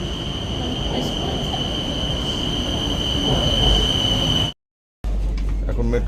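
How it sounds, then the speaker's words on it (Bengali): Riding a Bangkok metro train, a steady rolling rumble fills the car along with a constant high-pitched whine, which cuts out abruptly for a moment before the rumble returns. "এখন মেট্রোতে আছি,"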